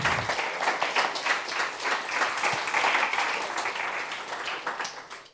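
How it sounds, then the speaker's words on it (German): An audience at a youth hackathon's closing presentation applauds with dense, sustained clapping for about five seconds, loud and even before it tapers off at the end. "einmal Applaus"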